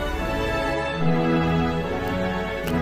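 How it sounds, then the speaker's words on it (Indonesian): The South Korean national anthem plays with sustained brass and strings in a stately, full orchestral arrangement, steady and loud throughout with no voices. "Yang kalian dengar ini adalah lagu kebangsaan dari negara Korea Selatan."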